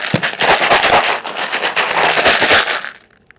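A tackle ammo box full of tungsten fishing weights drops and clatters in a loud, crackling rattle that lasts about three seconds before stopping abruptly.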